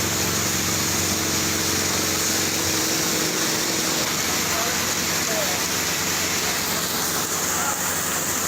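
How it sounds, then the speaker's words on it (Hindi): Heavy stormy rain pours down over a flooded street in Karachi, a steady loud broadband rush of water that continues unbroken throughout. "कराची में मुसलसल वसंदड़ तेज़ तूफ़ानी बरसात शहर के ॿोड़े छॾियो है"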